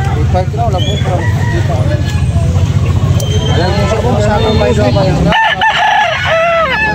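A rooster crows loudly nearby at Carbon market in Cebu, with hens clucking around it and a car engine humming underneath.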